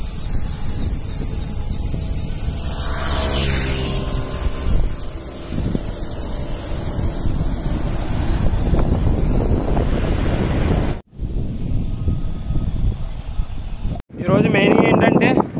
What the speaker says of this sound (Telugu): ఆపోజిట్ సైడ్లో గాలి ఎక్కువ బాగా ఉంది